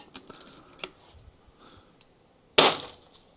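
Sharp, crisp report of a shot fired outdoors during a field test of DNT Optics Zulus V2 gear, one loud burst near the end after a few faint clicks and handling taps.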